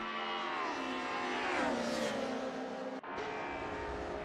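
DTM race cars, including a BMW, at Hockenheimring in a racing video game, a steady high engine whine that rises and shifts pitch as the cars run close, with a brief dip midway.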